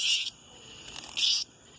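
An agitated cicada held close, giving two loud, harsh buzzing bursts, each about a quarter second long, separated by a quieter stretch of faint buzzing.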